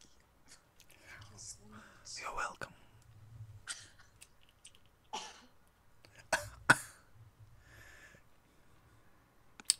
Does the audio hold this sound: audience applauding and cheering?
no